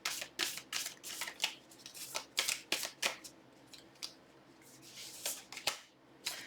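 Tarot cards being shuffled and handled up close, a run of soft papery riffles and flicks in uneven bursts, fairly quiet and with no one talking.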